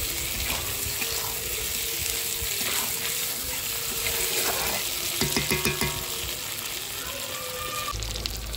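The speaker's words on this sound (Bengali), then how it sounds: "মাছের সঙ্গে মশলাটা কষিয়ে নেব ভালো করে" Fish being fried with spice paste in a pan, a steady close sizzle with stirring scrapes and clatter throughout, loud and continuous.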